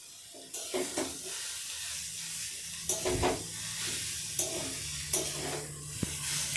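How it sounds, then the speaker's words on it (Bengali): Chicken and spices stirred in a hot pan, with coriander leaves added, sizzle steadily while a spoon scrapes through in repeated strokes, close and continuous, with no talking. "সুন্দর করে মশলার সঙ্গে মিশিয়ে নেব নাড়াচাড়া করে।"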